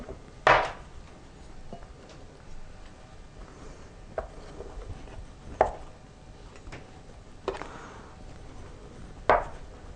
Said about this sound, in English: So I'm going to cut this butter into pieces and get it into the pie crust